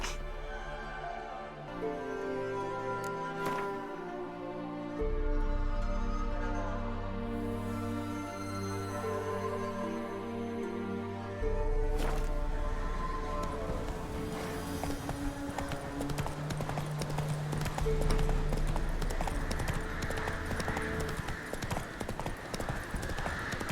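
Hooves of a horse clip-clopping in The Witcher 3 game world, a steady patter of footfalls with occasional snorts over a low background game score.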